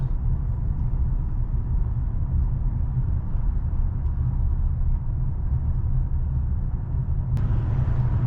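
A 2011-2017 Hyundai Elantra with a newly replaced crankshaft position sensor coasts off the gas, giving a steady low road-and-engine rumble from inside the car, with a brief sharp click near the end.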